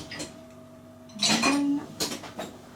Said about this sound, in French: Dans la vaisselle.